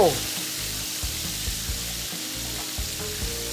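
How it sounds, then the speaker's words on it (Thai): Grouper fish frying in hot oil, a loud, dense, continuous sizzle heard close up, with soft stirring knocks beneath and no talk. "ก่อนที่จะขึ้นเร่งไฟ ไล่น้ำมันออก ให้แบบกรอบๆเลย"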